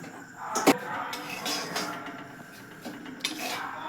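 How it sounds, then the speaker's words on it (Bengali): Semolina being stirred in a wok after salt, sugar and oil are mixed in: a soft scraping and rubbing of a spoon against the pan, with one sharp metallic clink near the start and a couple of lighter knocks later, close and moderately quiet. "সুজিটা আমার কড়াতে একটু নেড়ে নেওয়া হয়ে গেছে বেশ গন্ধ উঠেছে"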